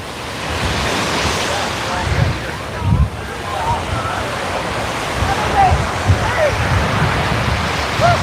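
Ocean surf washes onto a Hawaiian beach near Diamond Head, a steady rushing roar with heavier wave surges and gusts of wind buffeting the microphone.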